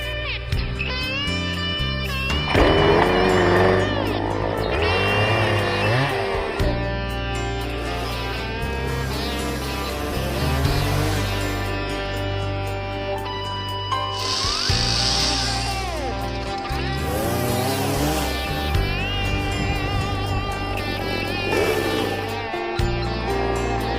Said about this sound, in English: all I'm doing in this stage with the chainsaw is taking out the stuff that's really too big